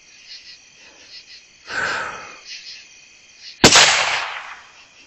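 A .22 magnum rifle shot during a night possum hunt on a cut hay field: a single sharp crack late in the clip that rings off, with a softer thump earlier over a steady chorus of crickets and insects.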